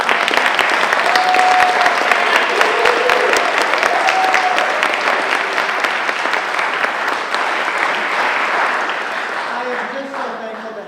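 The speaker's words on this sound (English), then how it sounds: "So if we could just have one more round of applause for these guys." A university audience claps steadily after a social justice choir performance, a dense round of applause that stays strong and then slowly tapers toward the end.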